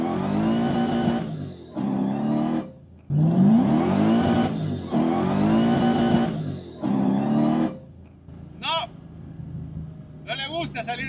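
A Nissan 350Z with a swapped Hellcat engine pulls away from a second-gear start, its loud engine note surging and cutting out in repeated bursts, with a short tire chirp near the end.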